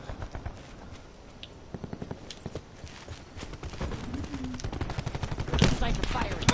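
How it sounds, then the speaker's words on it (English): Repeated sniper rifle shots and other gunfire crack through a Call of Duty match, sharp transients scattered across a busy battle mix with a dense background and rising intensity toward the end. "Sniper firing."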